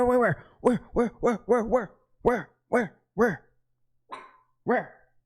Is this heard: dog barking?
yes